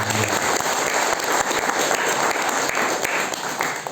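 Church congregation cheering and applauding during a worship service, a dense, steady wash of clapping and voices lasting throughout.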